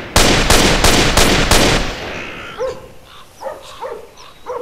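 Rapid burst of rifle fire from a camouflage-pattern weapon in GTA San Andreas, loud close shots in quick succession, then a short echoing tail and a few faint clicks and thuds.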